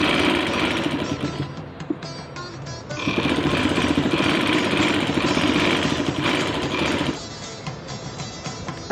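A sewing machine hemming a polyester bed sheet with a hemming foot runs loud and steady in a close, rapid mechanical chatter, easing briefly before resuming at full speed.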